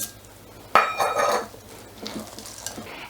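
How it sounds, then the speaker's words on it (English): Dark chocolate chips being stirred into vegan brownie batter in a bowl, a sharp clatter of utensil against the bowl followed by softer scraping and clinking, brief and close. "I'm gonna mix half a cup of dark chocolate chips as well for that extra decadence"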